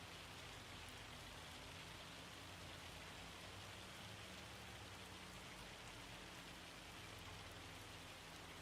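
Heavy rain falls in a farming video game as a dense, even hiss with no break, fairly quiet and steady and with no voices over it.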